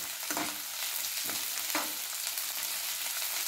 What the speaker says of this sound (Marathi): आणि हा लसूण पण घालूया त्याच्यात आणि चांगलं परतून घेऊया